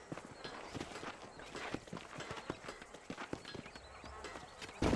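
Horse hooves clip-clopping in Red Dead Redemption, a steady trotting rhythm of hoofbeats at moderate volume, somewhat distant and unaccompanied by talk.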